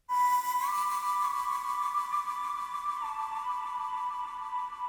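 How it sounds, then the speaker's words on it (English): Sustained flute tone from a software instrument plugin, a breathy, clear whistle-like note that bends up slightly, holds, then steps down and continues steadily, played alone without voices. "that's a nice flute sound there"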